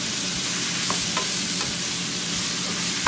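Pancit bihon rice noodles with carrots being stirred in a hot pan, a steady sizzle with soft scraping and tossing sounds throughout and no talking.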